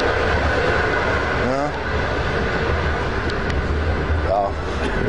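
Steady low rumble and rattle from riding inside a moving train in China, with faint squeals and brief chirps over the continuous rail noise.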